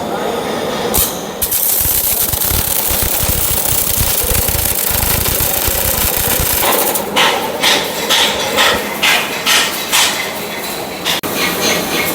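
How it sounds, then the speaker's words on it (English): MAG welding on a steel block, second side being welded: a steady broadband crackle and hiss runs throughout, loud and continuous, with a brief break near the start and faint intermittent sounds in the later part. "Now I am welding opposite side."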